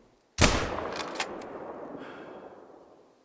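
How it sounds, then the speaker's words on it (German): A single loud rifle shot fired at wolves in the hunting game The Story of Yukon Valley, a sharp crack followed by a long, rolling echo that slowly fades. "Der zweite Schuss war wahrscheinlich kein Treffer."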